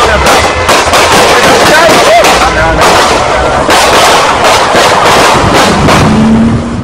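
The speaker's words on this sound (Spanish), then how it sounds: "Las aterradoras imágenes captadas por un aficionado muestran el instante en que se produjo el tiroteo." Gunfire from a street shooting captured by a bystander, loud, sharp broadband cracks repeating irregularly through a dense, clipped recording with crowd noise and voices underneath.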